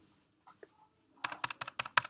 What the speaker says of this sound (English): I just start typing usually 3 to 4 characters